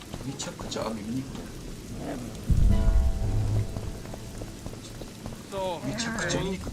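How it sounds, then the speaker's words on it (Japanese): Rain falls steadily in the video game The Witcher 2, a constant dense patter with a heavier low surge midway, while voices talk over it. "It only ever rains these days."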